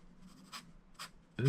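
An H pencil scratches across a tracing pad in short, separate strokes, faint and close, with a louder scrape of paper at the end.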